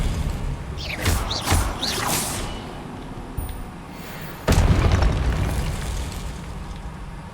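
Spell impacts in the Hogwarts Legacy video game: sweeping magical whooshes and bursts, then a loud booming hit midway followed by a lingering rumbling tail, no talking.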